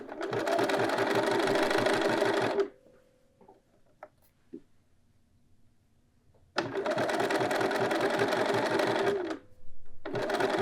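A sewing machine stitching a dress armhole and button band runs in two long, loud bursts of rapid mechanical chattering, separated by a quiet pause with light handling clicks.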